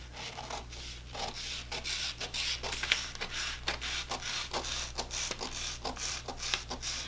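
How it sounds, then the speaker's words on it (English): Scissors cut through a paper pattern along a slash line on a bodice sloper, giving a quiet, rhythmic series of crisp snipping and rustling strokes at close range, with no talking. "we can then take and cut on that slash line."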